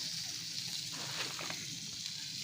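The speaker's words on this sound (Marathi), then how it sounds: "आता सर्व त्या चिकनवर फ्राय होतं आहे" Chicken pieces frying in hot oil at a home cookout in Konkan, a steady close sizzle and crackle running continuously with a few brief louder pops, no talking.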